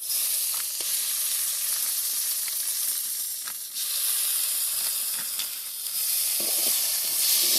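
Ginger garlic paste fries with onions in hot oil for a quail gravy, giving a loud, steady, hissing sizzle throughout with occasional faint scrapes and clinks of stirring.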